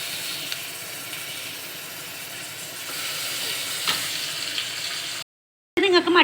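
Mutton ribs frying in a pan give a steady, close sizzle and hiss that runs for several seconds. A short silent gap follows, then a brief burst of louder activity.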